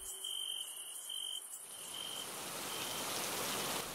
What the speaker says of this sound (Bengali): তুইও এলি আর বৃষ্টিও শুরু হয়ে গেল